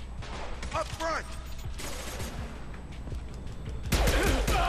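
Gunfire from a Mass Effect 2 firefight, with bursts of shots, impacts and a louder crash of fire near the end, mixed with game voices and a steady background drone.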